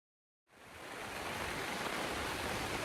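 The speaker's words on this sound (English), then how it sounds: "So we're listening to the lovely sound of the rain." Steady broadband hiss of rain falling at a riverside campsite, continuous and even after a brief silent start, with no voices.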